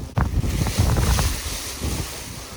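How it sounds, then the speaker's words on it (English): Strong wind roaring and buffeting against the microphone at a paragliding launch, with low rumbling gusts and no voices. "It is really windy."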